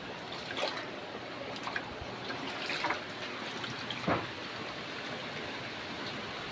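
Typhoon floodwater pours into a house with a steady, faint rushing and trickling, plus a few brief splashes or knocks.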